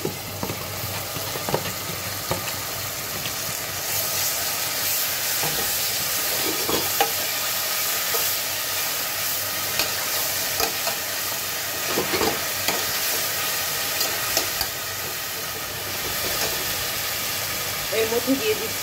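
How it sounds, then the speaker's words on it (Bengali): Garlic paste frying in a pan for a Bengali muri ghonto dish, a steady sizzle and hiss with scraping stir strokes throughout, while a voice speaks over it. "এখন দিয়ে দিচ্ছি 1 টেবিল চামচ পরিমাণ রসুন বাটা।"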